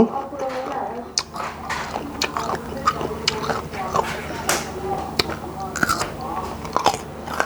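Someone bites and chews young, unripe olives up close, with crunchy, moist bites and squishy chewing repeating irregularly. A few soft murmurs come through between mouthfuls.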